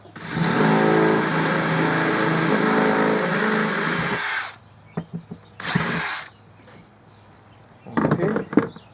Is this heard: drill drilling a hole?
yes